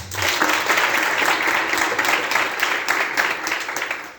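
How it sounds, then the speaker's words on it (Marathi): A crowd of students and attendees at a lecture gives sustained applause, dense clapping filling the hall steadily for the whole stretch without pause. "आणि जोरदार टाळ्या वाजवा."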